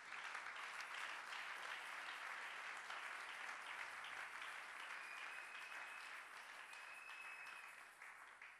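Church congregation applauding together, a dense sustained wash of clapping that holds steady and only thins slightly toward the end, with no talking over it.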